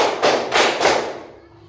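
Children at an elementary school clap their hands in a counted rhythm: three sharp, evenly spaced claps close by, with the last one fading into a quiet tail.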